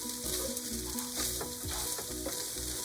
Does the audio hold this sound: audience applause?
no